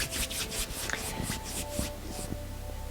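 Hands briskly rubbed together, producing a soft rhythmic swishing of skin on skin in about ten quick strokes that fade into gentler friction, close and fairly quiet.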